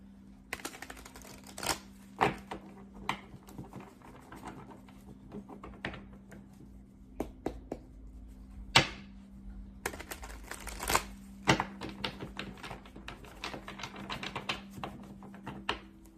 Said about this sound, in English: Sorry, these cards are really thick. Sometimes they're hard to shuffle.